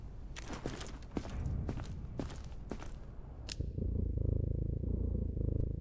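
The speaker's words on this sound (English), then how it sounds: "Oh my god, you can actually hear the purring." A cat purring through a stethoscope in the video game Quarantine Zone, with a steady low rumbling purr that swells and fills the last seconds after several soft taps and scuffs.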